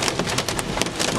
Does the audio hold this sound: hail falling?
yes